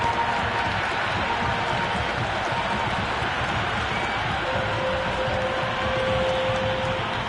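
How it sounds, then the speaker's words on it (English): A cricket video game crowd at a T20 match between India and South Africa roars in a steady, dense wash of cheering and applause, continuous and fairly loud throughout, with commentary beneath. "There's a buzz, a real buzz coming from the stands."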